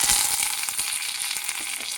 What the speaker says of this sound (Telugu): ఇది ముందుగా పోపు వేసుకుంటున్నానండి